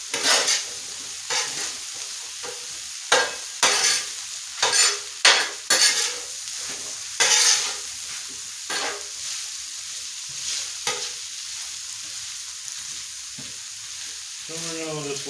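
Food fries in a pan with a continuous sizzle while a utensil stirs it in short bursts of scraping, the strokes spaced irregularly and fading toward the end.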